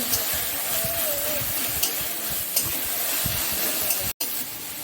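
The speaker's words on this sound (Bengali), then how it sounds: "শাকগুলো একটু ভাজা ভাজা করে নেব, খুব বেশি না" Jute leaves sizzle and hiss steadily in a hot pan as their moisture cooks off, a dense continuous frying noise with a few faint clinks of stirring and a brief dropout near the end.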